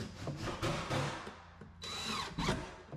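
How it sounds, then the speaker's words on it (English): A power drill drives screws into a kitchen cabinet, producing a few close, whirring bursts of motor noise with the screw grinding into wood, separated by short pauses. "So now we'll throw 2 screws back in here."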